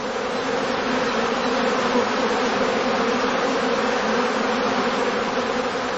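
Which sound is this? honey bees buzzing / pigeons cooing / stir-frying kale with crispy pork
honey bees buzzing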